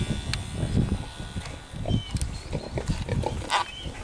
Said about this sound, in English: And that's Hamilton snorting